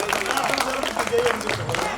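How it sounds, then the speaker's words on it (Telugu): A crowd at a Hindu gathering claps steadily and loudly, with dense overlapping applause filling the whole moment and a voice faintly underneath. "ఆయనకు ఒకసారి గట్టిగా చప్పట్లు కొట్టాలని."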